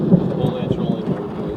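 Thunder rumbling over a lake right after close lightning, a steady, loud low roar with rain hissing throughout, and no clear break across the short stretch.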